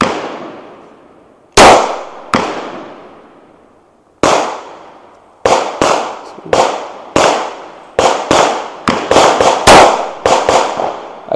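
AKS74U Krinkov rifle shots crack at an outdoor range, loud and sharp with a short echo. About twelve shots are fired, first spaced singly and then in quicker strings, with no talk.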